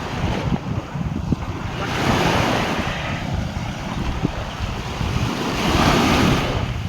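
Waves wash in and out on a shore with gusty wind buffeting the microphone, surging in broad swells throughout.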